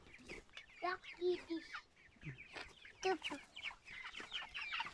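Backyard chickens cluck and chatter nearby in quick, overlapping bursts, with a busy mix of calls throughout.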